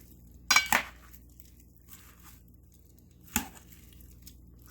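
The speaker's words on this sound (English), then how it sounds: "Stir it up with the tongs" Greek salad of cucumbers being tossed with tongs in a bowl, a few sharp clinks and scrapes in quick pairs then one more later, quiet in between with no speech.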